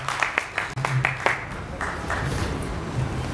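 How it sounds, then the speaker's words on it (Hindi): An audience at a kavi sammelan poetry gathering in Haridwar gives applause for the poet Ritika, a short burst of clapping at first that softens into lighter, scattered claps, with a voice speaking over it. "मैं चाहता हूं और तालियां उठे"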